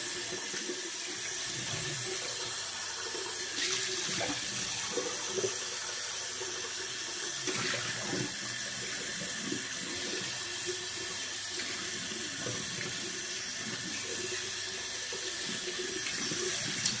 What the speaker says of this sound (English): Rinsing your Scuttle.